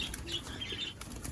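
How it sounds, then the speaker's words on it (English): Cockatiels in an aviary flap their wings in soft, fluttering bursts, close and fairly quiet, with a few faint chirps mixed in and no talking. "He's got a nice flight of cockatiels in here."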